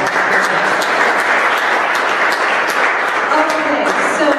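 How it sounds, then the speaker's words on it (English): A classroom audience gives a sustained round of applause at a startup course session, dense clapping holding steady and fairly loud throughout, with a voice faintly audible beneath it. "Give him a round of applause."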